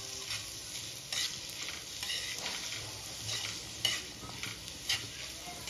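Tomato and bell pepper sizzle in a pan on a medium flame while being stirred, a steady frying hiss broken by repeated scraping strokes of the spoon, close and fairly quiet.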